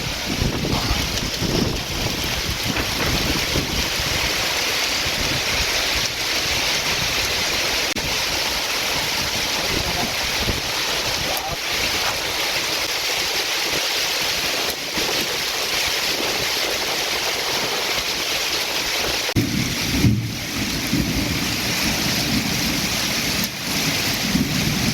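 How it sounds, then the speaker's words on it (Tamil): Sudden heavy rain in Vriddhachalam pours down in a dense, continuous hiss, with strong wind buffeting the microphone throughout. No distinct thunderclap stands out. "விருதாச்சலத்தில் தொடர்ந்து திடீரென கனமழை பெய்து வருகிறது."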